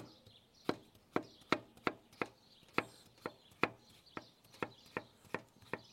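An organic cucumber sliced lengthwise with a knife, unpeeled, for a Greek salad: about a dozen crisp, evenly spaced chops on a cutting board, close and clear with no talking.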